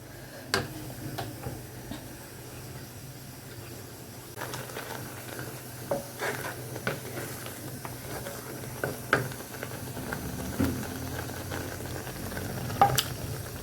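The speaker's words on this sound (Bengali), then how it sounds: "পনিরগুলো দিয়ে দিলাম" Paneer pieces sizzling in a hot pan in a home kitchen, a steady low frying hiss with scattered crackles and small pops throughout, no voices.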